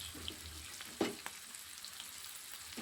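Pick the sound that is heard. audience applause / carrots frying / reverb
carrots frying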